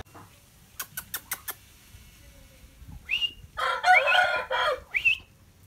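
A purebred Shamo breeding rooster gives a few quick clicking clucks, then one loud, close, drawn-out crow that swells and trails off.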